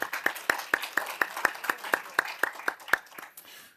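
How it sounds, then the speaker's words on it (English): A small conference audience claps for a departing panel speaker, about a dozen sharp claps in a steady, fairly even rhythm, close and moderately loud with no talking over it. "Big applause for Cornelius."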